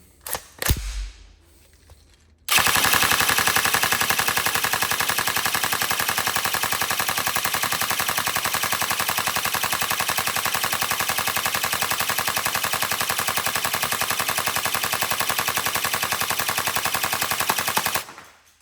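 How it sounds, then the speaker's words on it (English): Tokyo Marui MK46 airsoft gun with a Warhead black motor firing one sustained full-auto burst of about fifteen seconds, a loud, fast, even mechanical rattle after a few brief clicks. "It's got a nice rate of fire on the Warhead black."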